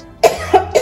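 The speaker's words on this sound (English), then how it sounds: "I just started coughing out of nowhere" Three quick, close coughs from a woman, each a short sharp burst spaced about a quarter second apart.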